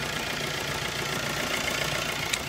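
A Maruti Suzuki Swift Dzire diesel car engine idles in good condition, a steady, even rumble held close and constant throughout with no talk.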